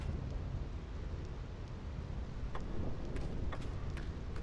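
Thunderstorm on the Thunder Plains in the video game Final Fantasy X, a continuous dense rumble of rain and thunder with a few sharp crackling strikes, loud and unbroken throughout.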